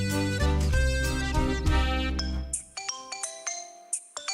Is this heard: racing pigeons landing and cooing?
no